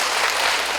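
Audience clapping for a presenter at a parish lecture, a brief dense burst of applause at close range.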